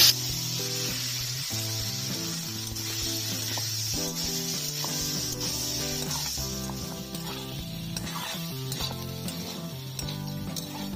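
Cut potatoes sizzling steadily as they fry in a pan with turmeric for jeera aloo, a close, continuous hiss with faint crackles and patter, with no talking over it.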